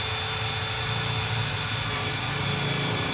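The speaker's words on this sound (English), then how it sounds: "And we're going to countersink right here." A power drill countersinks screw holes in a wooden board for a waving wooden flag, giving a steady, loud, whining buzz that runs unbroken and close to the microphone, with no voices.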